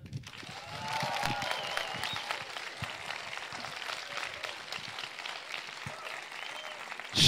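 A live poetry slam audience in Meppen breaks into sustained applause, a dense wash of many hands clapping that holds steady and fairly close for several seconds.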